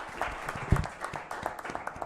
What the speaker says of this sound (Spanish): creo que merece otro aplauso más de parte nuestra